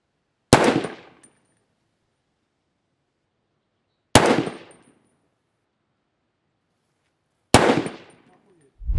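Three loud, sharp shots from a Heckler & Koch MR308 .308 rifle spaced a few seconds apart, each ringing out with a short echoing decay before silence.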